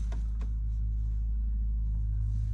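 An electric Mercedes G-Wagen spins in place in a 360-degree tank turn, heard as a steady, fairly quiet low rumble and hum that holds for a couple of seconds with no talking.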